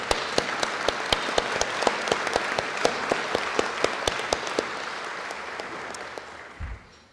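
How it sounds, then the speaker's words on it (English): A crowd at a 2014 mayor's challenge debate event claps in sustained applause, dense and steady at first, then thinning and fading away toward the end. "If we could give everybody a round of applause."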